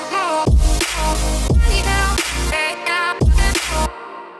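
Future bass drop, played without its electric guitar layer: dense saw-like synth chords and heavy sub bass pumping in sidechained bursts, with brief gaps between hits and no talk.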